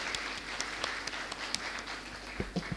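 An audience applauds in a steady wash of clapping at a moderate distance, with a few sharper individual claps standing out near the end.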